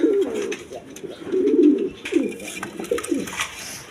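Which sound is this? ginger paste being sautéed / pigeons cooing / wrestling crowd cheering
pigeons cooing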